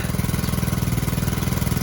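A motor water pump on a farm, used to draw irrigation water from a river, drones steadily up close, its engine thumping in a fast, even pulse with no voices over it.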